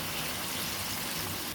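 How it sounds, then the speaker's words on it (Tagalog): Water pouring steadily into a pot of mechado, a short, faint, continuous splashing rush with no voices. "Lalagay din tayo ng tubig."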